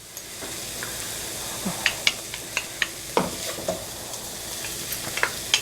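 About five or six cloves of freshly chopped garlic sizzle in a hot pan while being stirred, a steady low fry hiss punctuated by sharp scraping clicks of the utensil at an irregular rhythm.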